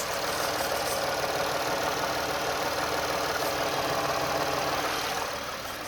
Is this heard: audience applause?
no